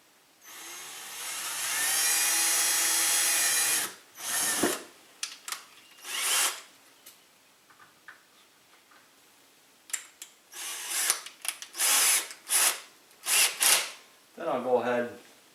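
A power drill runs steadily for a few seconds as it bores a small pilot hole into a boat, loud and close, followed by shorter bursts and handling sounds with brief talk in between.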